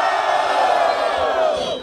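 A crowd at a rap battle in Barueri, São Paulo, roars and shouts for MC Kant, a loud sustained wall of voices and cheering that holds steady then tails off slightly at the end.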